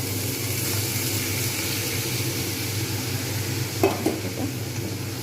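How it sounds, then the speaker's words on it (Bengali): Shrimp frying in oil with chichinga in a pan give a steady, fairly loud sizzle with a low rumbling hum underneath, then a brief burst of louder clatter and spattering near the end; nobody speaks. "আমি এতে চিংড়ি দিয়ে দেবো"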